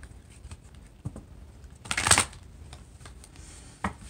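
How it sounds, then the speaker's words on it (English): Tarot cards are shuffled by hand: soft taps and riffles, with one louder swish of the deck near the middle and a final tap. "let me get you one more shuffle"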